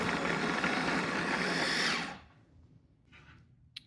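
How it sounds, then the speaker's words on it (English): A food processor whirs loudly and steadily as it chops fresh cranberries into small bits, running for about two seconds before cutting off abruptly, leaving a quiet room with a faint click at the end. "I'm adding it to my food processor and I'm going to get it into nice little bits"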